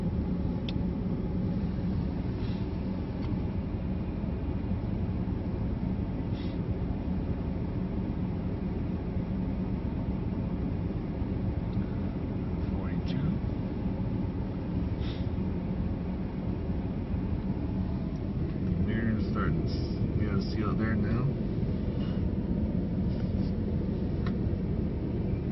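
Ram 1500 EcoDiesel pickup engine idling steadily after a cold start at -2C, a constant low rumble with blower noise, faint clicks and brief rattles late on, no talking.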